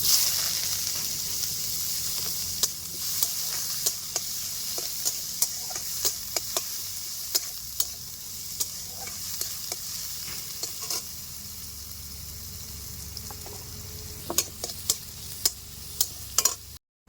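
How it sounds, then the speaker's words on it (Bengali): Chopped onion fries in hot oil with cumin seeds in a pan for fish curry, giving a continuous sizzle punctuated by many sharp clicks and taps of a spatula stirring against the metal. "দিয়ে দিচ্ছি পেঁয়াজ কুচি"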